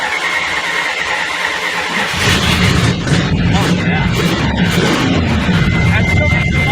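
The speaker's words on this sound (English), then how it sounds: "It sounds really good for a car that has zero accelerator pump." A car engine fitted with a rebuilt Thermoquad carburetor and no working accelerator pump cranks and catches after about two seconds, then runs loud and close with a rough steady idle while someone briefly speaks.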